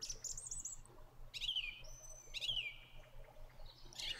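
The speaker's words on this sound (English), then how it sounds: "Birds." Birds chirp in the video game The House in Fata Morgana, a few clear, sweeping tweets spaced about a second apart over a quiet low background drone.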